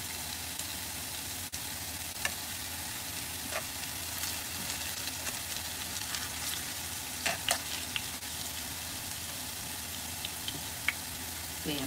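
Luncheon meat and potatoes frying in a pan, a steady soft sizzle with occasional small pops and spatters, moderately quiet and without talk.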